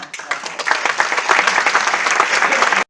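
A crowd at a Labour party conference breaks into loud, sustained applause, dense clapping swelling quickly and holding steady before stopping abruptly.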